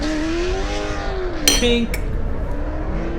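BMW E36 drift cars rev down the straight at a drift competition, a mid-distance engine note rising and falling in pitch, with a brief metallic clink partway through and a short spoken word.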